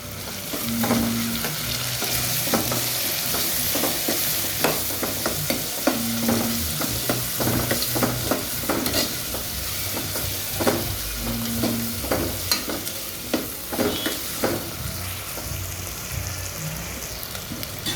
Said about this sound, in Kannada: ಇದು ಸ್ವಲ್ಪ ಫ್ರೈ ಆಗಲಿ ಗೈಸ್